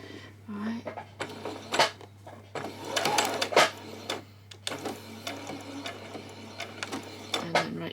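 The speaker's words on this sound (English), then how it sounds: "I'm just going to come along there and stitch across where that hole is" A sewing machine stitches across a hole in a skirt in short, quiet bursts of rapid mechanical clatter, with small clicks and pauses between runs.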